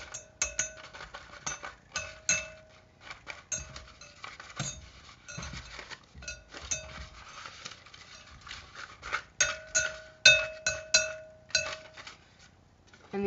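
Mashed banana dough being mixed in a bowl gives off steady, irregular clinks and taps of a utensil against the bowl, close and fairly quiet, with no talking.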